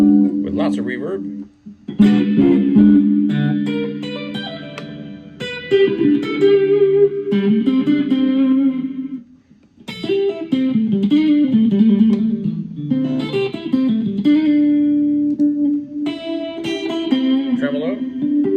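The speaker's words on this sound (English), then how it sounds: "With lots of reverb." An electric guitar plays chords and single notes through the reverb setting of a Flamma FX10 headphone amp, each phrase ringing out with long, lingering tails. The guitar is clear and close, with a brief gap midway.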